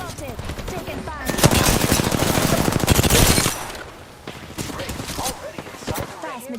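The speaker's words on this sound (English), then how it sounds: "Enemies are shooting at me." Sustained automatic gunfire in an Apex Legends match: a loud, dense stream of rapid shots lasting a few seconds, followed by scattered lighter bursts, with speech faintly underneath.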